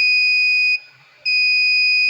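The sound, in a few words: buzzer of a test alarm device sounding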